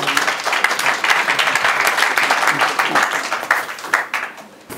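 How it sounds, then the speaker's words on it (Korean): Audience applause welcoming the session chair at a unification education workshop seminar, a dense steady crowd clapping that holds loud for several seconds and then begins to thin toward the end. "큰 박수로 맞이해 주시기"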